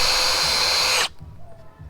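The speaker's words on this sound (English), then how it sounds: "the drill" A power drill whirs loud and steady as it bores a hole in a wooden frame, then cuts off abruptly, leaving faint room noise.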